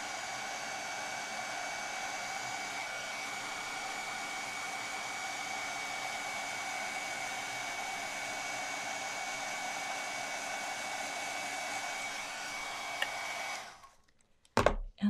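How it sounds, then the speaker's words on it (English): A handheld heat tool melts embossing powder on a die-cut snowflake card, blowing a steady, even whirring roar for about thirteen seconds before it cuts off, followed by a few small knocks. "I'll get my heat tool warmed up and we'll melt the powder."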